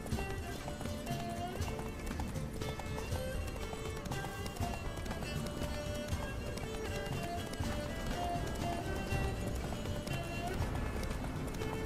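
Rapid hoofbeats of a galloping horse in The Witcher 3 video game under a dense wash of game music and effects, with a voice speaking over the constant busy mix.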